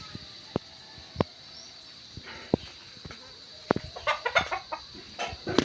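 Clucks from a brooding hen on eggs in a farmyard nest covered with a small piece of roofing sheet, short soft calls spaced irregularly, with a brief denser burst of clucking near the end over quiet outdoor background.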